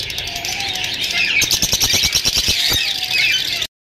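Peach-faced and Fischer's lovebirds chattering in cages at a Sunday bird market in Bahawalpur, a steady stream of loud shrill chirps and squeaks with a rapid rhythmic burst in the middle before cutting off.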